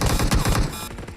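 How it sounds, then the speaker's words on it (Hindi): Rapid bursts of gunfire ring out in a mobile battle-royale shooter game, a fast rattling volley of shots close and loud that eases off toward the end. "पीछे से कुछ ज्यादा फायरिंग का साउंड आने लगा था।"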